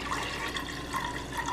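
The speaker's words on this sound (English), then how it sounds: "fill it with about a cup of water." About a cup of water is poured into a pan on a stove, giving a steady, close splashing and trickling that goes on throughout.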